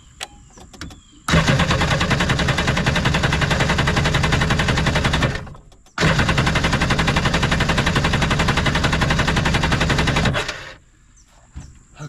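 An engine cranks with power from a Lokithor jump starter: two long, loud bursts of rapid rhythmic cranking, each several seconds, separated by a short pause, with quiet clicks before and after.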